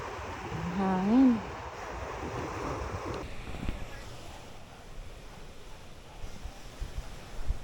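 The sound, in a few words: wind on the beach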